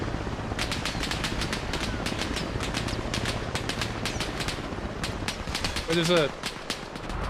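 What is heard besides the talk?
machine gun firing from hillside in video game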